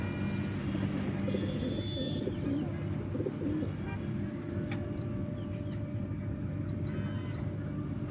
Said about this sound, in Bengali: অরিজিনাল রেসার কবুতর এগুলা।